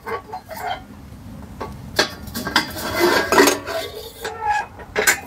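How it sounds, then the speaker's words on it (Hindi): Metal utensils and pots clatter and clink irregularly as they are pulled one after another from a bucket-style travelling kitchen kit, close and busy, with scattered bangs and rattles. "ये सर अपना एक बर्तन निकल गया है।"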